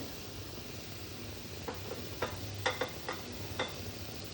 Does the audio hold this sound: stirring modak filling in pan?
yes